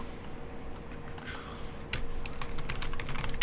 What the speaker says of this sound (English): I fail at typing.